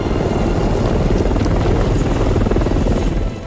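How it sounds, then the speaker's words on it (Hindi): A helicopter in the video game Batman Arkham Knight hovers nearby, its rotor producing a loud, steady, pulsing whir that runs throughout with no speech. "ये हेलीकॉप्टर वगैरह लेके आ गए।"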